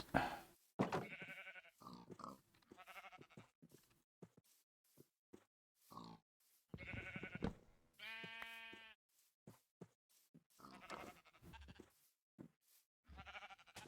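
Sheep in a video game bleating in short separate calls, with one long wavering bleat near the middle, alongside gaps and other brief farm-animal grunts, fairly quiet and clean.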